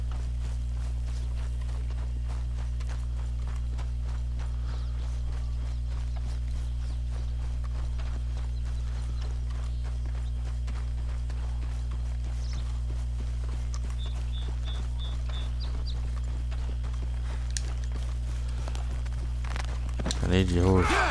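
Horse hooves clip-clop steadily in Red Dead Redemption, a continuous footfall rhythm under game ambience and a constant low drone, with a sharp louder burst near the end.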